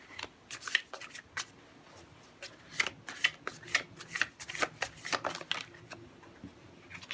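Tarot cards being shuffled up close, a series of quick crisp riffling bursts and taps in uneven clusters over a quiet background, with no talking.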